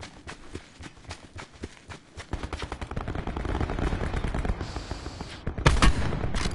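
Rapid bursts of gunfire from a battle royale video game, a dense run of sharp shots that builds louder toward the end, with a heavy volley near the close.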